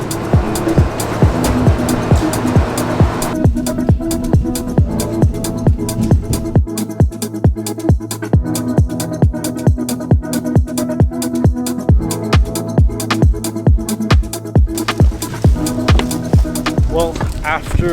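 A train ride to Sighisoara, Romania, heard as a steady loud rumble with a regular rhythmic clatter of wheels over rail joints running throughout, with deeper low thumps in the middle stretch.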